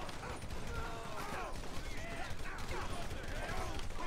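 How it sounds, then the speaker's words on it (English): Gunshots in GTA V with the LSPDFR mod crackle as a dense, rapid volley of repeated shots, steady and loud across the clip, mixed with mechanical clatter and a voice talking. "Shots fired, shots fired, shots fired, multiple shots fired"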